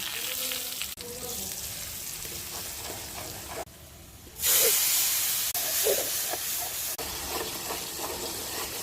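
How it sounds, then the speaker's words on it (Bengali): Salt, turmeric, chilli and coriander fry in a hot pan for a shrimp curry with taro stems, a steady close sizzle and hiss that rises sharply midway as more goes in, with faint stirring scrapes. "মশলা কষানো হয়ে গেছে"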